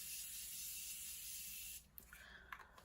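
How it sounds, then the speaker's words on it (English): A short hissing burst of setting spray misted onto a face, a steady airy spray that stops abruptly, followed by a few faint soft rustles and taps, quiet and close. "So I'm gonna spray my face one more time."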